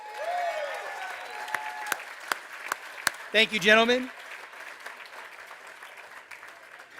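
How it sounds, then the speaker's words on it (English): Audience applause at an evening fundraising gala in a venue, honoring two chairs; the clapping runs under a voice thanking them, with a few sharp individual claps standing out. "So a round of applause for Gordon Root and Rick Weibel."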